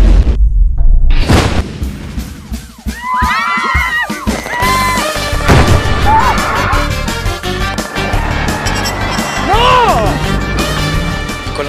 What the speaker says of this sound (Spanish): explosiones, tiros.